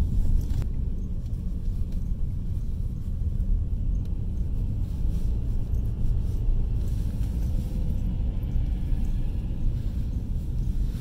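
Interior of a car driving along Republic Avenue in Shymkent, Kazakhstan, with a steady low road rumble and engine drone throughout, no talk.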